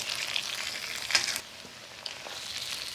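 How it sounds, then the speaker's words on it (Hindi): Garlic ginger paste sizzles steadily in a hot pan for a chicken karai, with a few louder scrapes and stirs near the middle and a softer, even fry alone afterward. "अब इसके अंदर मैं ये लहसुन अदरक का पेस्ट डाल दूंगी और इसको अच्छी तरह मैं"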